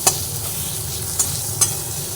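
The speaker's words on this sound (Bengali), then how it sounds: "সব একসঙ্গে ভেজে নিই একটু ভাজা হয়ে যাক" Winter vegetables fry in a pan with a constant low sizzle, broken by three crisp spatula clicks against the metal as they are stirred.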